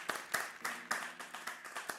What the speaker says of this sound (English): I'll clap for you all for being really patient